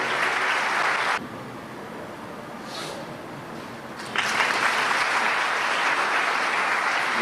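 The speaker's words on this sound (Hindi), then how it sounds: "जोरदार तालियां।" Loud applause from a church audience at a Palm Sunday gathering, sustained for about a second, then dropping to a softer patter before surging back strong and steady for the last few seconds.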